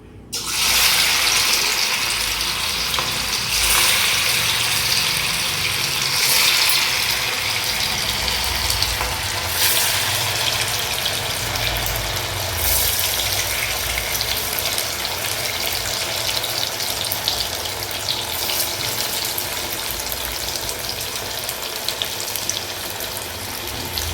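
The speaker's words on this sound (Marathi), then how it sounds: "आपलं तेल आता चांगलं इथं गरम झालेलं आहे. आता आपण ह्याच्यामध्ये एक एक वडी सोडून घेऊया." Cabbage vadi pieces frying in hot oil, a dense continuous sizzle and crackle that starts abruptly and stays loud and steady for the whole stretch, close up with no talking.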